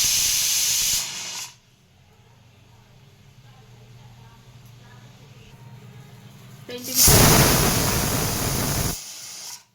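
A stovetop pressure cooker cooking cucumber dal vents steam in two loud, harsh hissing bursts, one at the start and one near the end, with a quiet low hum in between.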